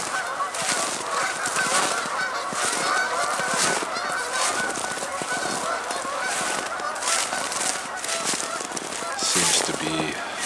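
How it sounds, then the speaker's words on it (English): Many geese honk continuously by a river in winter, a busy, overlapping chorus, loud and steady outdoors for the whole stretch. "quite a few geese down here along the river"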